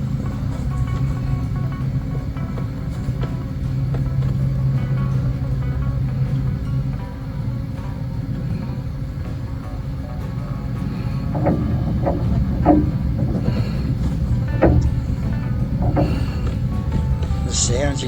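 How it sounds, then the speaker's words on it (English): A steady low roar of wind gusting around a boat at night, rushing and buffeting continuously with occasional faint knocks and creaks from something loose up top. "that's actually the wind and something blowing up around up top"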